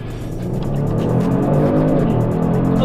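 A Kia Stinger performs a launch-control start, its engine roaring loud and close as it accelerates hard, the revs climbing steadily with a faint hint of tire noise throughout.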